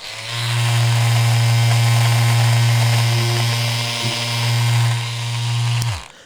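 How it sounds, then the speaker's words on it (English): Electric barber hair clippers, clogged despite cleaning and oiling, run with a loud steady buzzing hum close up, holding nearly constant for about six seconds before cutting off. "even after me cleaning these clippers and cleaning them out and oiling them and everything like that, they still sound like that"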